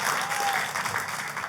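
A church congregation applauding during a sermon, a steady wash of clapping from a large indoor crowd that holds throughout, with a faint voice underneath.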